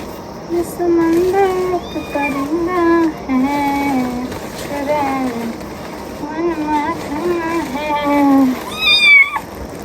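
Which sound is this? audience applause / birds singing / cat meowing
cat meowing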